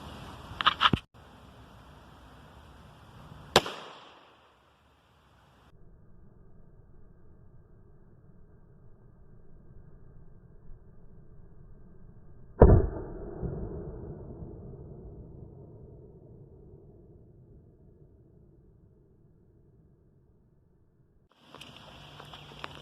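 A .410 shotgun slug is fired at a wooden silhouette from ten yards, producing a few sharp, loud outdoor reports. Each shot rings out and fades into quiet, with one more blast at the very end.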